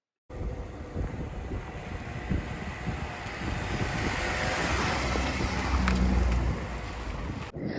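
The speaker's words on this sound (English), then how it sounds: "today I'm back on this very windy, blustery day in West Yorkshire" Blustery wind on a very windy day in West Yorkshire buffets the microphone with a continuous roaring rush that builds in strength and gusts before cutting off abruptly.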